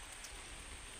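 Rain falls steadily outside an office in rural Apayao province, a constant even hiss of drops on surfaces, close and fairly quiet, with no voices.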